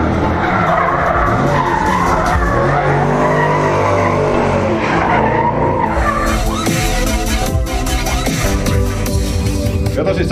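Drift car at a 2014 drifting show in Lempäälä, Finland, tires squealing and skidding on asphalt under a roaring engine, loud and continuous for about ten seconds, with an announcer speaking over it.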